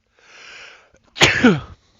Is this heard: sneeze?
yes